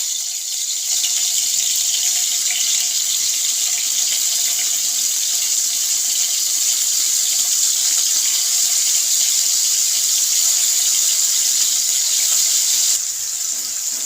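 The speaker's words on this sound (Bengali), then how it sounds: "এখন মাছগুলো উল্টিয়ে পাল্টিয়ে ভেজে নিব।" Tiger prawns fry in hot oil over a full flame, giving a loud, steady, unbroken hiss and sizzle that carries on evenly from start to finish without talk.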